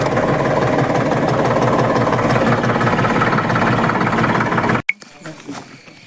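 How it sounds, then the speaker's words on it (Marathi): A tractor engine chugs loudly and steadily with a rhythmic knock, then cuts off abruptly, leaving faint clicks and shuffling. "आता ट्रॅक्टर निघणार आहे"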